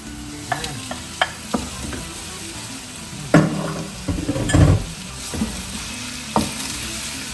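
Beef for spaghetti sauce fries in a pan, giving a steady sizzle broken by sharp clicks and scrapes of a utensil stirring the meat, with a louder burst of sizzling midway.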